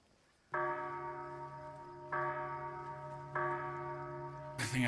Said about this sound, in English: Oh, have I rang it again that bell?